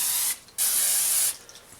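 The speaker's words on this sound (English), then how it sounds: "I just want to take a little bit of the cooking spray" Two short bursts of cooking spray hiss onto quesadillas on a grill, each a steady close spray lasting under a second with a brief pause between them.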